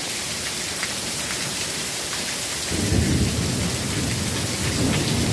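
Heavy rain pours steadily during a thunderstorm in Las Vegas, Nevada, with a deep rumble of thunder swelling in about halfway through and continuing under the downpour; no one speaks.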